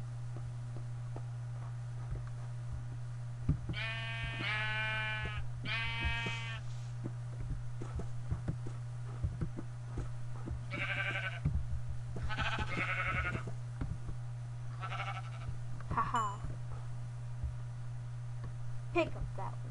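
Sheep bleating in the game Minecraft, several short wavering bleats in small bursts spread across the stretch, above a constant low electrical hum.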